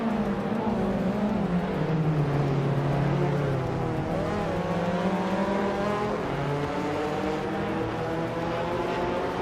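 Race cars in a video game race, one a Chevrolet Camaro, drone continuously with rising and falling engine pitch as they run close together, loud and steady with no talk.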